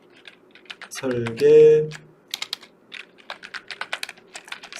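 Fingers tap out text on a computer keyboard while drafting in AutoCAD, clusters of light close clicks around a brief spoken word, then steady typing continuing alone.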